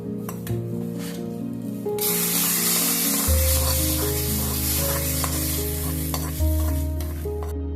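Powdered dried red chillies and other ingredients for a raw banana thoran heat in a pan. A dense hiss of sizzling swells after a couple of seconds and carries on steadily under soft background music.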